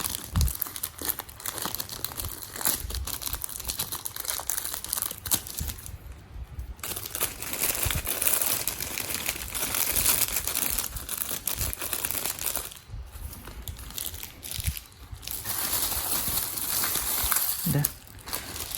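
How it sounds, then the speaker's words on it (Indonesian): Macaroni packaging being unwrapped, a steady crinkling and tearing of plastic close by that runs for most of the stretch, with a few brief pauses and faint background noise. "Kita unboxing juga makaroninya."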